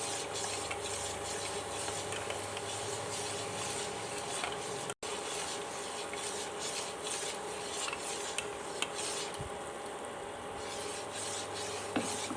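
Steady scraping and rubbing of a spoon stirring melt and pour soap mixture in a container, continuous and close, with a brief gap midway and no talking.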